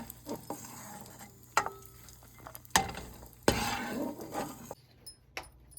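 Cashews roasting in a pan, with close scraping and stirring strokes over a soft sizzle and occasional clinks of a utensil against the metal, loud bursts alternating with quieter pauses.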